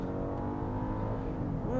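A 2021 Genesis GV80 luxury SUV's engine pulls hard while accelerating onto a freeway, a steady close droning rev heard from inside the cabin.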